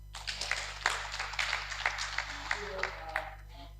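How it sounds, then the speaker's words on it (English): Audience applause at a health forum meeting, a moderate run of scattered hand claps over a steady low electrical hum, fairly quiet and somewhat distant. "a clap for him once more"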